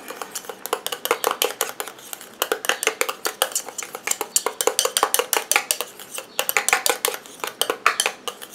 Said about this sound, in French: Voilà, donc je mélange à nouveau.